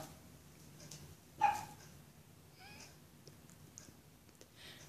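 A small dog whimpers and yips near a door, a sharp close cry followed by a few fainter whines and soft scuffles in a quiet room.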